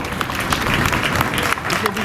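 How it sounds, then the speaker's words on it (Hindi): An audience in Gorakhpur gives steady, dense applause at a ceremony honoring a sitar artist, with a broad wash of clapping throughout and no clear pauses. "तालियां बजाकर प्लीज इनका सम्मान करें।"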